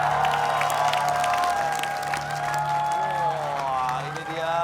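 A television studio audience claps and cheers with scattered whoops as a performer is welcomed, and music plays underneath the crowd noise.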